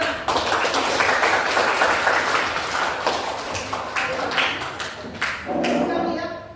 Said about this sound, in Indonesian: Oke, bagus, tepuk tangan.